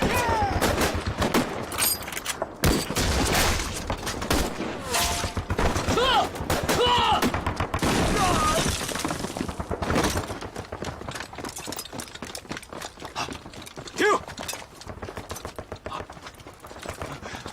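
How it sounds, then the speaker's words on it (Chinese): Gunfire in a Chinese war film about an ambush on Japanese troops, with dense crackling volleys and scattered single shots running throughout amid loud battle noise and shouting voices. "前面有枪声"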